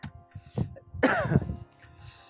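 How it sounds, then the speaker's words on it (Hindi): A throaty cough or two bursts out close by from a man with a cold, a rough harsh clearing sound, with quiet background noise before and after. "थोड़ा खांसी हो गया भाई ठंड में"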